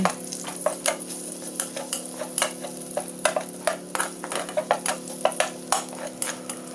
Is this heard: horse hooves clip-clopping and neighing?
no